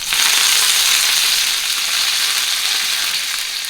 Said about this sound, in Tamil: கடுகு பொரியுது, கடலைப்பருப்பு